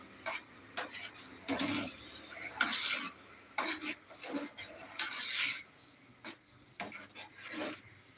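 Sweet chickpea (kadala) payasam is stirred in a pot with a spoon, a series of faint, rhythmic rubbing and scraping strokes against the pot with short gaps between them.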